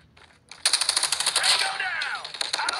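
Rapid bursts of gunfire in the mobile shooter Call of Duty Mobile, a dense volley of close shots that starts abruptly after a brief quiet and keeps going, with a faint voice in the background.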